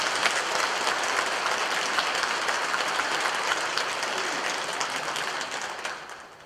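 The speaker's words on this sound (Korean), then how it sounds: "우리 서로를 위해서 박수 한번 쳐주십시오." A Catholic church congregation of several hundred parishioners applauds steadily at a Palm Sunday Mass, a dense, even wash of clapping that holds for several seconds and then fades toward the end.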